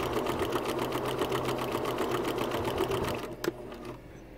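Sewing machine with a blind hem foot stitching shell-edge picots, running in a fast, even rhythmic chatter for about three seconds before stopping with a small clunk.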